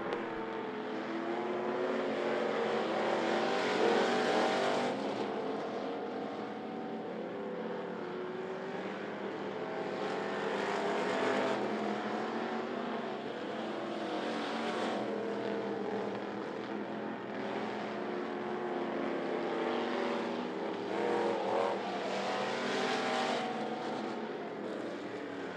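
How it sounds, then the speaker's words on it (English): Race cars in a heat race at I-75 Raceway, a continuous engine roar swelling and fading as the pack circles the track at a moderate distance. "Alan Walker continues the lead as we have reached the halfway point of this heat race."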